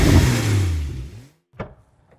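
A Porsche 911 of the 992 generation revs hard up close, a loud rising engine blare that drops away over about a second, followed by a short burst of sound and then quiet.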